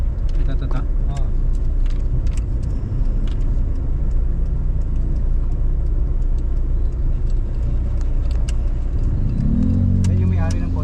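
A car engine runs steadily with low rumble throughout, rising in a rev near the end, while people talk over it.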